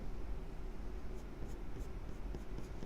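Graphite shading with a soft 2B pencil on paper, a steady continuous scratchy rasp of lead rubbing back and forth across the sheet, close and fairly quiet, with no one talking over it.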